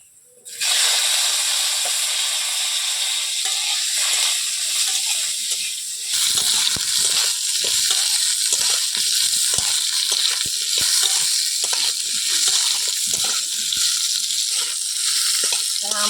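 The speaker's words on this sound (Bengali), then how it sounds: "এবার দেবো কেটে ধুয়ে রাখা আম" Washed, cut mango pieces drop into hot oil tempered with dried chilli and panch phoron, bursting into a loud, steady sizzle. The hiss continues close and strong, with a brief dip partway through.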